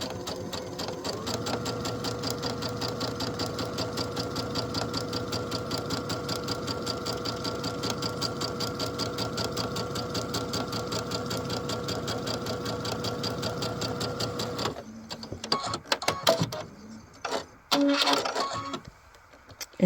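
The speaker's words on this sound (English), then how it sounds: "So we're going to sew 1/4 inch away on that drawn line." A sewing machine stitching quilt fabric squares runs in one loud, steady, even whir for about fifteen seconds, then stops, followed by a few short bursts of handling noise.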